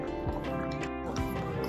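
Large horses' hooves clop several times at close range in a park in Baguio, with a faint snort and a steady hum behind them.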